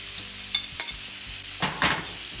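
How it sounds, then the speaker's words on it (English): Onions and bacon sizzle steadily in a pan while a utensil scrapes and stirs through them, with a few sharper scraping strokes over the constant frying hiss. "I'm just going to stir this together and then I'm going to deglaze this pan"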